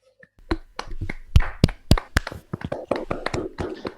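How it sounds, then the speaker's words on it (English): Scattered hand claps from a small group after an academic talk, uneven and close, tapering into lighter sporadic claps. "I still hear some applause."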